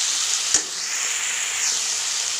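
Peas and tomatoes frying in a pan for paneer curry, a bright steady sizzle with one sharp stir or clatter near the start, close and continuous without talk.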